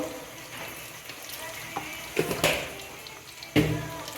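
Potato curry seasoned with salt, turmeric, cumin powder, chilli powder and sugar being sautéed in a pan, giving a soft sizzle broken by a few clattering stirs and scrapes.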